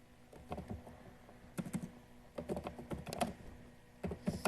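Bursts of quick, light key clicks on a computer keyboard, typed in short irregular clusters with pauses between, close and fairly quiet, with no voices.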